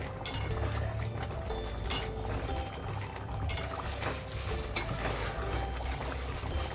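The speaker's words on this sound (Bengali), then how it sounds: "এখন আমি অ্যাড করে দেবো এক চামচ গরম মশলা দিয়ে হালকা হাতে নাড়াচাড়া করে দেবো" Palak paneer simmering in a pan after garam masala goes in, gently stirred with a spoon that clinks softly against the metal over a continuous bubbling hiss, close and without talk.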